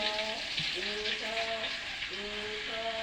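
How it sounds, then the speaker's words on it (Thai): Pork belly deep-frying over low heat until crispy, cooked together with winged termites: a steady, dense sizzle and crackle of hot oil throughout, with faint melodic tones running in the background. "นี่คือวิธีการทอดหมูสามสั้นครับให้กรอบๆ"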